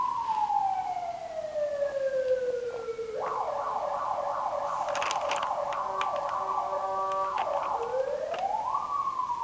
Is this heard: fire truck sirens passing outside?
yes